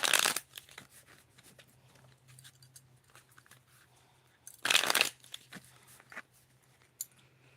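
A tarot deck is riffled and cut in short bursts. Loud crisp flurries at the start and again midway are broken up by softer card slides and taps, all close and with no one talking.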